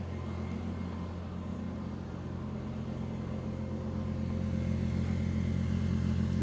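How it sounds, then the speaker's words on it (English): Outside a 2024 Toyota Land Cruiser, its turbo four-cylinder engine idles steadily and mellow near the single exhaust port, a continuous low hum with no voices. "Let's go see what idle sounds like from outside."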